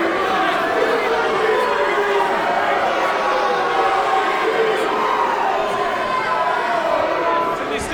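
Hot crowd at a PPW wrestling match in Western Canada roaring and jeering continuously, a dense wall of loud crowd noise with shouts rising from it.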